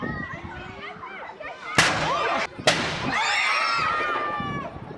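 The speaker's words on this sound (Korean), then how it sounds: "처음 발포를 하고 지금까지 155년 동안 이 대포 발사의 전통을 이어오고 있답니다" Ceremonial cannon fired at Edinburgh Castle, a tradition dating from 1861: two loud, sharp booms roughly a second apart, each ringing out with echo, heard amid crowd chatter and voices before and after.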